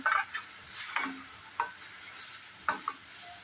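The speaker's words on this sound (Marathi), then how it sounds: "याच्यात मी थोडं दूध घालते।" Coconut and sugar being stirred in a pan as a little milk is added, giving several short scraping stirs and a soft sizzle, close and fairly quiet with no talk.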